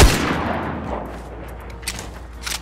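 Gunfire in a Fortnite match opens with a sharp, loud shot, followed by a fading echo and a few quieter, distant pops toward the end.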